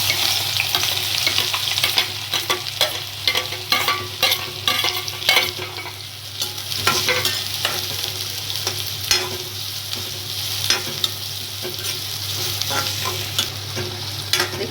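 Finely chopped onions fry in hot oil in a pan for a lotus stem curry, a steady close sizzle broken by frequent scraping stirs of a spoon, with no voices.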